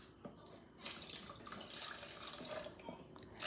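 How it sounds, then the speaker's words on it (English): Fresh carrot juice is poured into a container for soap making, a faint, steady trickling splash that runs for a few seconds at close range with no talking over it. "So we're going to pour some of the juice here"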